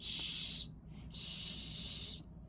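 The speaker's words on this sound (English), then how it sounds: "So it's a whistle / fire starter." A whistle built into the ferro-rod fire starter on the sheath of a Buck 863 Selkirk knife gives two loud, shrill, steady blasts, each about a second long, with a short pause between them and no other sound.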